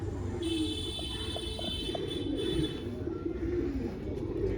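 A male pigeon, a cross from Jaunsure pigeons, coos in repeated soft, throaty calls close by over a steady low background rumble.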